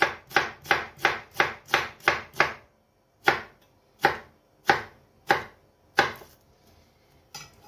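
Half a red onion is finely chopped with a knife. A quick run of about eight close, crisp board taps comes first, then slower, spaced single chops with pauses, and there is no talk.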